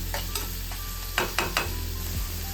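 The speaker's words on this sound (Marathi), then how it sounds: "आपल्याला हा कांदा परतून घ्यायचा म्हणजे त्याचा कच्चेपणा निघून जाईल" Chopped onion sautéing in a pan for a Maharashtrian paneer ghotala, with a steady soft sizzle and several sharp scraping stirs of a spatula near the middle, no talking.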